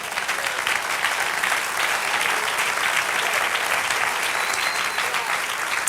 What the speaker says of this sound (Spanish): Dale un aplauso, ese lo merece.